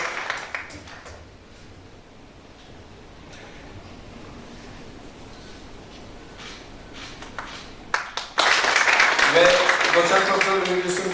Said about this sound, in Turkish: Yine alkışlarınızla ve kendisine bileketi saygıdeğer rektörümüz takdim ediyor.